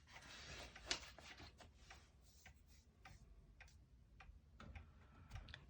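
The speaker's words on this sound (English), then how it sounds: "So that's a nice even tick-tock." A clock ticks with an even, regular tick-tock, faint and close in a quiet room, each tick a crisp short click at a steady pace.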